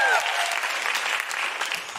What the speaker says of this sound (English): Where's our round of applause?